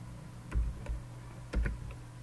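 Keys pressed on a computer keyboard while typing a command at a terminal, a few separate clicks in two short bursts over a steady low hum, close and fairly quiet.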